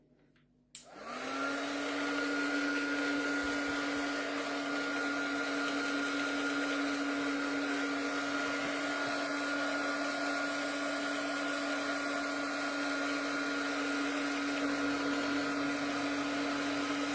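A hair dryer switches on with a brief click and then blows steadily and loudly for a long stretch, drying a mixed media frame.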